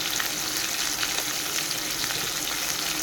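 Sole fish sizzles steadily in hot oil with salt and turmeric as it is stirred. The frying hiss is loud, close and continuous, with faint scraping from the stirring.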